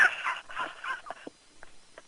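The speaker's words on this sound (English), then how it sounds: "Sorry, dog's barking." A dog barks several times during a radio call-in, the short yips and barks coming from the room somewhat back from the microphone, mixed in with the host's talk.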